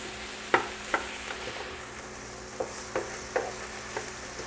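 Italian sausage fries in a pan while being broken up, a soft steady sizzle punctuated by several distinct scraping and tapping strokes of a utensil against the pan, close up and without talk.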